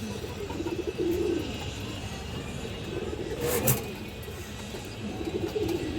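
Low cooing from pigeons, including a jet-black male Muslim-tail of an old breed, rises in soft repeated phrases near the start and end over a steady murmur of background noise, with a brief sharp noise midway.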